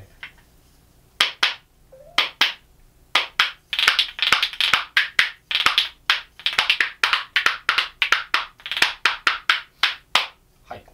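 Percussion spoons struck in rhythmic bursts, a steady run of sharp clacks and rattles that is close and moderately loud, played alone without talk.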